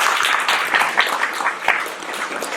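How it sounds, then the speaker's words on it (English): Applause fills the hall at a networking dinner for the Asian Curry Awards, a short, dense burst of many hands clapping at close range. "a huge round of applause to Yara Khan for what he does for us today"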